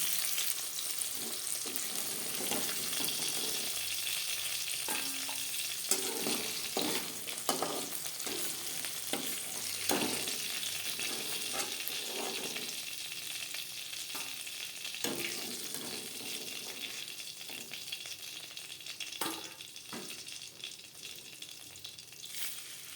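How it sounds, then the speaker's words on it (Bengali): Pieces of rohu fish frying in oil, a steady sizzle close at hand with irregular scraping and clinking as the pan is tended, gradually quieting toward the end and free of speech. "পরের মাছ একইভাবে ভেজে নেব"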